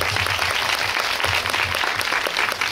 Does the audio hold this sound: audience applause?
yes